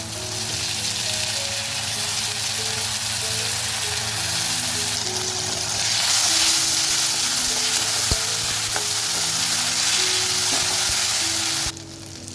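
Ginger, garlic and mustard paste hits a pan of fried raw mango and fish, setting off a loud, continuous close-up sizzle with occasional stirring scrapes and a sharp clink, running unbroken until an abrupt change at the end.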